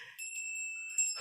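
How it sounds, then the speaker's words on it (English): A moose bell, a hand bell, rings once with a bright sustained metallic tone that rings on steadily, then gets a second light strike near the end before fading under a brief rustle. "That might be more of a moose bell."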